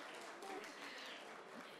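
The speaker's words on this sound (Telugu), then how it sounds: "ఇంకొకసారి ఆ 10 సార్లు చప్పట్లు ఒక్కసారి వినిపించాలి" A crowd applauds at an app launch event attended by Mahesh Babu. The clapping forms a dense, continuous wash that sounds fairly distant, with voices mixed in.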